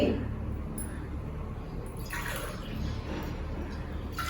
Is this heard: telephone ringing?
no